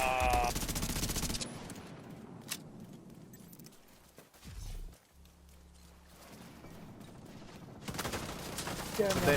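Gunfire in The Division 2, with dense bursts of shots and loud firefight clatter at the start and again near the end, a quieter stretch in between, and players talking over it.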